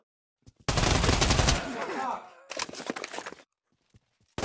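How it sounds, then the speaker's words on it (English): Gunfire in the Pavlov VR shooter game during a round of Shack TTT: a loud, dense burst of rapid shots followed by a second shorter burst and a sharp final shot, with voices nearby. "There was gunshots."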